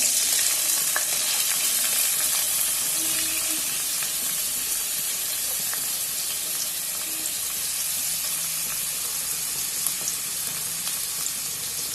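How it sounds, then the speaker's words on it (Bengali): Chopped onions fry in hot oil with a dense, bright, even sizzle and hiss that holds steady from start to finish, close and loud, with no talking. "My oil has heated up. Into this I will add some onions, chopped onions."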